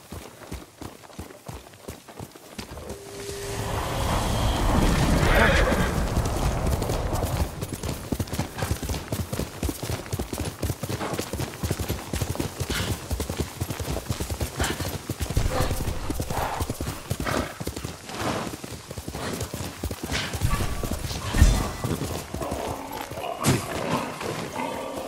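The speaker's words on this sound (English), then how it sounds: "Good horse, Noble." Horse hooves clip-clop steadily and loudly at a gallop through a Ghost of Tsushima game scene, with a brief whinny, dense rumbling game sound underneath and a voice faintly present.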